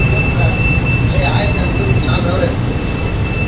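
A Fuxing Hao bullet train stands stopped at Nanjing South railway station, its steady loud rumble and hum filling the space with a faint high whine above, continuous throughout and close by.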